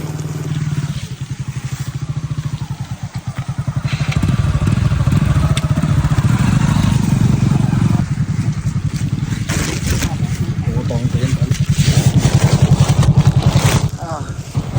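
A motorcycle engine chugs and revs up close as the bike rides along, its rumble rising and falling, with a voice talking over it.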